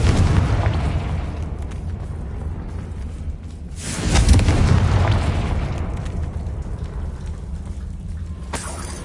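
A Confringo spell goes off in the Hogwarts Legacy video game as a deep, rumbling blast that swells mid-clip over continuous crackling, booming game noise with no voices.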